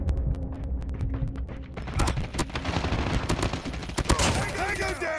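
Rapid automatic gunfire in a Call of Duty: Mobile ranked multiplayer match on the Slums map, with dense overlapping bursts and shots at close and mid range over a constant roar of game noise and faint radio-style voice callouts.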